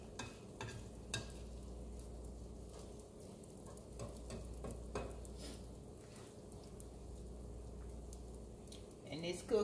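A bacon and egg omelette fries in oil in a pan with a soft, steady sizzle and occasional utensil scrapes and clinks, while a person talks quietly over it.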